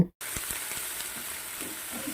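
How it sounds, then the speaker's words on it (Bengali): Chopped onions fry in hot oil in a kadai with a continuous bright hiss after a brief silence at the start, with faint stirring knocks underneath. "এবার একটি কড়াইয়ে তেল গরম করে পেঁয়াজ কুচিগুলো দেব।"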